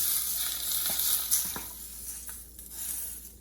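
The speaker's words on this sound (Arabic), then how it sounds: "راح اضيف عليه الزيت. الله الله الفرقوعة مالته شلونها" Oil sizzling and crackling in a pan while Iraqi fava bean tharid is made, a hissing frying noise close by with scattered pops that swells and fades over a few seconds.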